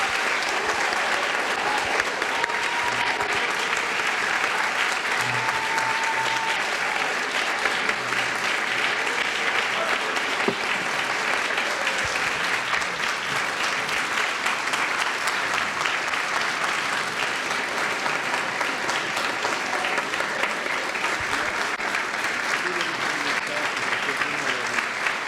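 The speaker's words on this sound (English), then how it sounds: "Please join us for a very loud round of applause for the CHAM resident class of" Sustained loud applause from a graduation audience celebrating a pediatric residency class, steady clapping with some crowd noise throughout.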